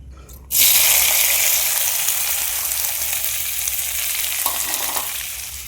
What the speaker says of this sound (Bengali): আমি একটা ডিম খাবো বলে ডিমটা ভাজবো